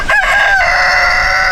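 A rooster on a small homestead gives one loud, close crow, with a sustained drawn-out call that fills the moment.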